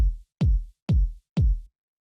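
Four big, boomy old-school house kick drum hits land at an even tempo, each a punchy, deep thump with a quick pitch drop and short decay, loud and close with silence between.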